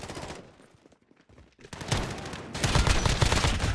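An M13 assault rifle fires in the Modern Warfare shooter game: sharp shots, a brief lull, then dense, loud rapid bursts of gunfire that build toward the end.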